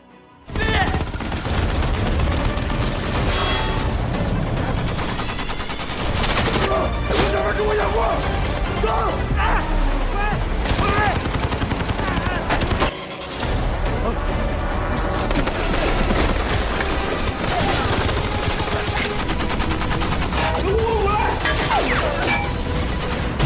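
Dense bursts of gunfire and crashing impacts fill a loud, chaotic film action scene, with rapid volleys continuing almost without pause throughout.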